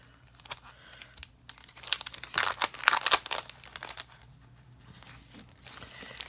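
Sticker sheets for a planner being handled and pulled out, with soft crinkling and papery rustles in irregular bursts, louder in the middle and fading toward the end, close by without talking.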